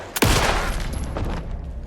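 A single loud gunshot cracks in Alan Wake 2, followed by a ringing echo and a second fainter shot that trail off as the clip goes on.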